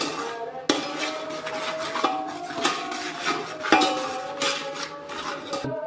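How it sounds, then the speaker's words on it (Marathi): A spatula clanks and scrapes against a metal pan while onion-garlic masala with red chilli and salt is sautéed, with sharp repeated knocks over a soft fry and no voices. "मसाला छान प्रकारे परतून घेऊ।"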